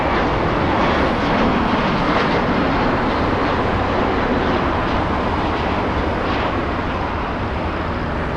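A passenger airliner on a flight to JFK roars steadily at Los Angeles International Airport, a loud, continuous broadband engine rumble holding nearly constant throughout, with no voices over it.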